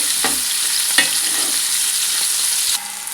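Bitter gourd pieces fry in a pan with a continuous loud hiss, punctuated by a couple of spatula stirs. The sizzle drops sharply near the end as a lid goes on, and there is no speech.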